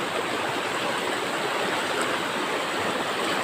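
A deep river in Davao de Oro rushes steadily, a dense, unbroken roar of flowing water close by with no voices.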